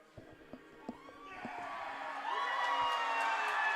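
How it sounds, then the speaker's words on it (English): At a women's college softball stadium, the crowd's cheering and whooping swells steadily after a few faint knocks and brief talk, rising to a sustained, broad roar after the win. "And listen to this crowd."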